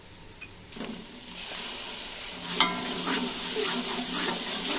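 Tomato and green chilli paste frying in a pan for kadhi pakora, a steady sizzle with stirring scrapes and a few light utensil clinks, close and continuous with no voices.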